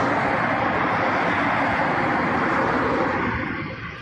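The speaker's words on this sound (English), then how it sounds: "The goddamn wind turbine" A wind turbine beside a bike path in East Bloomington, a loud, steady whooshing drone that holds constant, then eases and fades slightly toward the end, with no voices.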